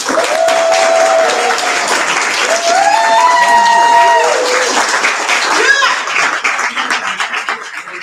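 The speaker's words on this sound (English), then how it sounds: "So can we please all give him a hand?" An audience at a youth global leadership conference closing plenary applauds with dense, sustained clapping, with cheers and voices mixed in. The clapping thins out near the end.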